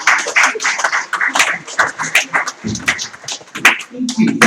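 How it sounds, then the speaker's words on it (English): An audience at a public conversation event applauds a speaker with scattered, uneven clapping that mixes with a voice talking over it. "Let's do another round of applause for him."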